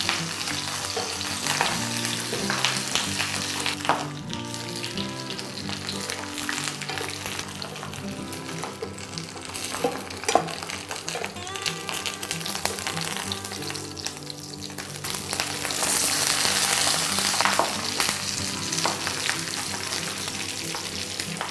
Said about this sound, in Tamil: அந்த எண்ணெயோடு அந்த இலையும் சேர்ந்து வேகும்போது நமக்கு நல்ல ஒரு ஃப்ளேவர் கிடைக்கும்